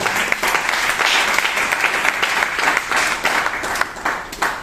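A church congregation breaks into steady, dense applause that fills the room for the whole stretch, with bursts of clapping swelling and easing, close and loud, with no voices standing out.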